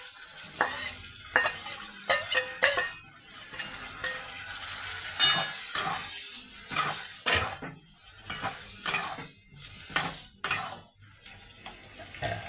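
Chicken pieces fry in a pan for chili chicken, a steady sizzle broken by repeated sharp scrapes and clinks of a utensil stirring against the pan, close up and without talk.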